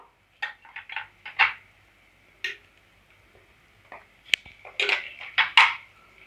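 Ginger garlic paste sautéed in a pan for dry fish gravy, heard as irregular clinks and scrapes of a ladle against the pan in short bursts with quiet gaps, close and fairly loud, no sizzle clearly evident.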